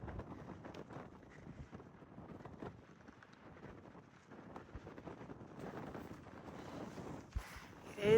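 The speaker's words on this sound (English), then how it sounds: "It is getting a little windy." Wind gusting steadily across an open, flattening trail among mountains, a continuous broadband rush and buffeting with rising bursts toward the end, moderately loud and close to the microphone with no talking.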